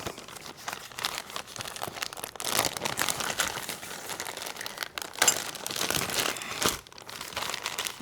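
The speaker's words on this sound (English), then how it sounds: "it came in this plastic bag" A plastic bag holding weed-eater blade parts is handled and crinkled up close, with continuous rustling and crackling that swells and eases over several seconds.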